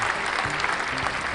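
A burst of applause from a crowd, steady dense clapping at moderate level with no voices over it.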